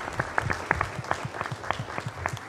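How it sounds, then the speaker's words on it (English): Applause at a mayor's public evening meeting, with a modest audience clapping at a moderate distance so that individual claps stand out in a loose, uneven patter. "Let's give him a big round of applause"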